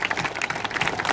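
Audience applause at a Gyeonggi Province Farmers' Day ceremony, dense steady clapping from many hands filling the hall, loud and close with no voices over it.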